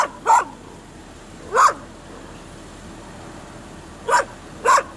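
A dog barks in four separate sharp single barks, spaced irregularly and moderately close, over a low steady background hum at a drive-through.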